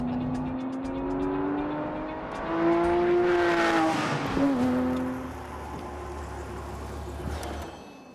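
A Porsche GT3RS MK II drives a race track, its engine rising in pitch through the gears, swelling loud mid-pass, then dropping into a lower steady drone with brief tire noise.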